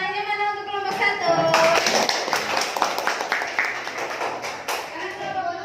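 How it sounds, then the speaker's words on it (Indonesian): A classroom group claps for the first group, a burst of hand clapping that swells and fades over a few seconds, with voices talking over it at the start and end. "Tepuk tangannya mana untuk kelompok 1?"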